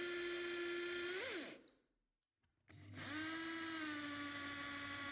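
A universal self-priming volumetric pump driven by an electric drill whines with a steady motor tone, cuts out for about a second with a brief pitch wobble just before, then spins back up and runs on continuously.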